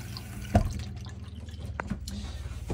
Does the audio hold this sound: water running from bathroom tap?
yes